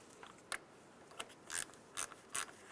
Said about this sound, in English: give yourself an angle to be able to tighten down that bolt